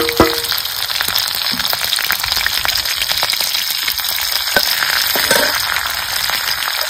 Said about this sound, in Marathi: ही मिरची आपल्याला तळून घ्यायची.